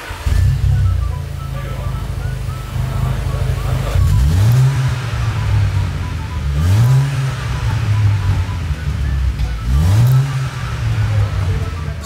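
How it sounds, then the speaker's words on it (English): Skoda Octavia vRS with a newly fitted turbo starting for the first time, then idling with a low steady rumble and three sharp revs that rise and fall at regular intervals, loud and close. "So that was the first startup of the VRS after the new turbo and everything's gone onto it, and it sounds loads better."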